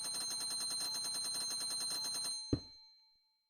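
An elevator bell from the Minecraft Create mod rings as a sustained, pulsing metallic tone for about two seconds, then cuts off with a single dull thump and a fading tail.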